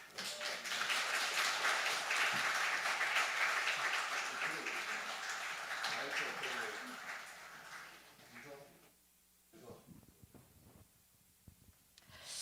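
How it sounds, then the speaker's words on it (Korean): Applause from a church congregation at a Korean revival testimony service, a dense steady clatter of many hands that holds for several seconds, then thins and fades to near silence with a few scattered claps. "박수로 좀 환영해 주시기 바랍니다."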